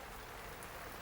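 Steady rain falls in a broad, even hiss with no distinct drops standing out, continuous and moderately close throughout the short stretch, with no voices.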